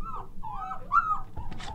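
A Rottweiler puppy whines in a few high, wavering whimpers, close by, followed by a brief soft rustle.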